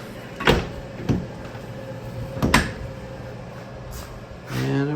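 A car door being closed, heard as several close thuds and latch clunks, two of them sharper, followed by a low hum and brief voice at the end.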